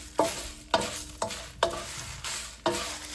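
Whole tamarind and curry leaves are stirred in a hot kadai. Five evenly spaced scraping strokes of a spatula sound against a low, constant sizzle, close up, with no talking.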